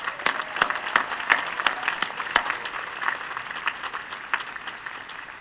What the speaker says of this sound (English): One more round of applause, I think.